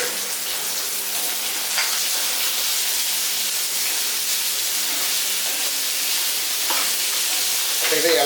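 Chopped onions sauté in a pan for an onion curd curry, giving a steady, close frying hiss and sizzle that holds at an even level throughout.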